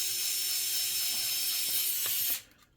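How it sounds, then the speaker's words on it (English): Screws being driven into the back cover of a Lenovo 530s laptop, a steady close whirring hum with a few small clicks and ticks that cuts off abruptly near the end. "just finish off with the screws that are left over, put them in"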